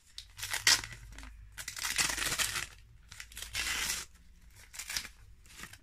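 Bursts of paper tearing and crinkling as a soft, squishy advent calendar gift is unwrapped, close and fairly loud, coming in several separate rips with short pauses between them and no talking.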